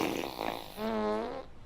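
A single buzzy, rasping fart lasting about a second, close and fairly loud, with a rising and steady tone before trailing off.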